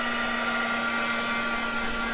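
A heat gun blows a constant, even airy roar while drying watercolor paint on a junk journal page, close and loud with a steady motor hum underneath and no pauses.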